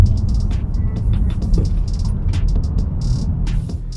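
A BMW F82 M4 drives along with steady road and engine noise, heard from inside the cabin, with a continuous low rumble and scattered clicks and rattles on top.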